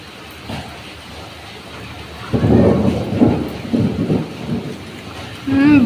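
Thunder rolls through a village rainstorm, a deep rumble swelling midway and lingering over steady rain, then a second low burst near the end, with no talking.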